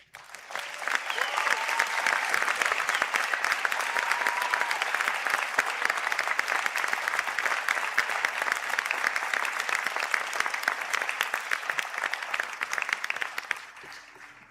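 Sustained applause from a large audience at a college conferring ceremony, honouring graduates of performing arts, acting and theatre design; dense, steady clapping starts within the first second and holds loud and even for about twelve seconds before cutting off.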